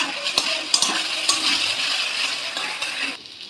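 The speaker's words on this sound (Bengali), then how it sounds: "এবার মশলাটাকে ভালো করে নাড়িয়ে চাড়িয়ে মশলাটাকে ভালো করে ভেজে নিচ্ছি" A spice paste with red chilli powder sizzles in a pan while being stirred, with sharp scraping strokes over a steady hiss that drops away near the end.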